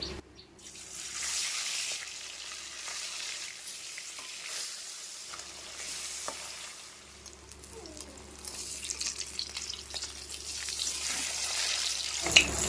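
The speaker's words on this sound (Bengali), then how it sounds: "মাছগুলিকে দিয়ে ভেজে নিচ্ছি" Faesha river fish frying in well-heated oil in a kadai, giving a steady loud sizzle and crackle that swells again toward the end, with no talking.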